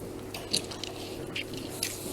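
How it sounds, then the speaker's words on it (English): A lemon is squeezed by hand over tahini on a chopping board, producing faint wet squishes and small juicy spurts scattered over a soft background hiss. "squeeze all on the chopping board like this"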